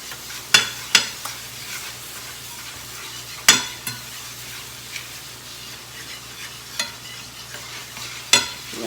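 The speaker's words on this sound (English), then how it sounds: "you're just going to whisk that together" Flour is whisked into hot fat in a pan for a biscuit gravy roux, a soft continuous sizzle broken by sharp metallic whisk taps against the pan, close up.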